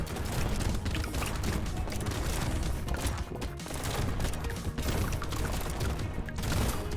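Shotguns fire in a dense, nonstop barrage in the top-down shooter game Brotato, with rapid overlapping blasts at a constant loud level and no talking.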